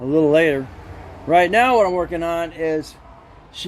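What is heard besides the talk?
No everyday noise stands out behind the speech.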